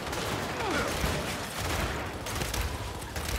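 Rapid bursts of gunfire from a weapon in the video game Gears 5, loud and continuous, with dense overlapping shots and no voices.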